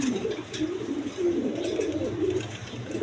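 A red Gola pigeon coos at close range in low, throaty repeated phrases under a steady background hum, with faint rustling and no talking.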